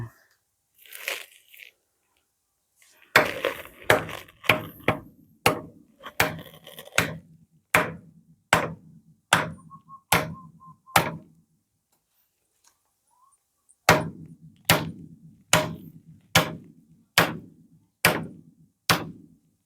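Stakes driven into ground being levelled by hoe for a concrete pour, struck with sharp, evenly spaced hammer blows in two long runs with a pause between. Someone speaks briefly at the start.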